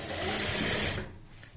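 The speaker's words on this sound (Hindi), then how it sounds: "अब हम यहाँ पे सबसे पहले इस तरीके से सिलाई लगाएंगे।" Sewing machine stitching a Punjabi kurti, a close, fast buzzing run of stitches lasting about a second before stopping abruptly into quiet.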